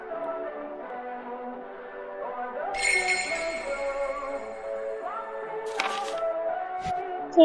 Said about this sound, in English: it sounds like jingle bells. It's playing pretty loudly.